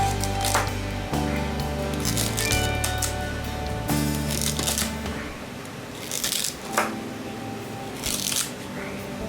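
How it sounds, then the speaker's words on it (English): Garlic sprouts chopped into small pieces with a knife on a board, making irregular light taps and clacks over steady background music. "Garlic sprouts. So cut in small portion."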